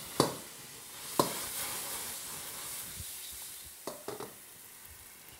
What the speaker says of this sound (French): Je fais bien chauffer mon alcool et je vais venir le flamber.